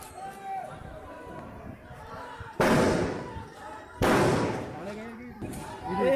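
Several sharp, loud bangs of gunfire burst out amid a chaotic crowd, in a clash over fake voting at an election in Kairana; shouting voices and commotion fill the gaps between the reports.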